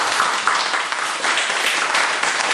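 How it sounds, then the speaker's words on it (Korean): A congregation claps during an early-morning revival service, a dense, even burst of many hands applauding together for a couple of seconds, steady and moderately loud with no voices over it. "승리해서 우리 박수 한번 쳐주세요."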